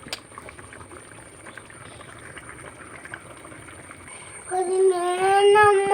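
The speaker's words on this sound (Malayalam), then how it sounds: "തിളക്കട്ടെ, വെള്ളം തിളക്കട്ടെ, എന്നിട്ട് അരിയിടാം." A pot of water boils on the stove for ghee rice, with a soft steady bubbling that swells near the end into loud, close, gurgling rolling boil, no talk.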